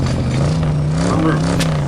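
A voice imitating an engine revving up during a tabletop role-playing session, a sustained buzzing vroom held for about two seconds with slight pitch wobble, loud and close.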